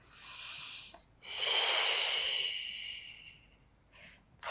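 Breath drawn in and released during a Pilates mat exercise, close airy inhales and exhales in two long hissing waves with a brief pause between, then a short final breath.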